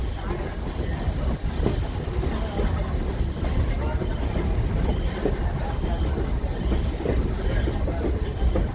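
Steady rumbling and rattling of a train rolling along the rails, continuous throughout with faint clicking.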